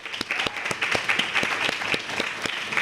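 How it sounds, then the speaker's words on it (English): A small group at a university debate claps steadily, with sharp, fairly regular hand claps ringing out across the room and no talking. "So give everyone a round of applause."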